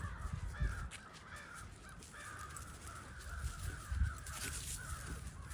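Several crows caw in a loose, irregular chorus, some calls nearer and louder, over a steady low background hum outdoors.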